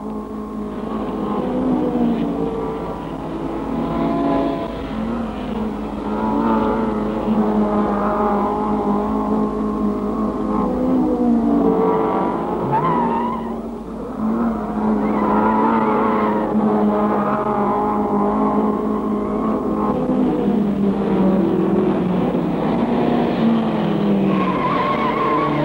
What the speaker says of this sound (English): First time round, Clark holds off Sears for the lead.